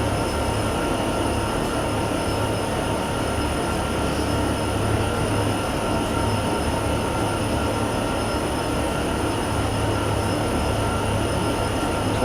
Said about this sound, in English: Once again, that beautiful Union Pacific train hauling this ethanol.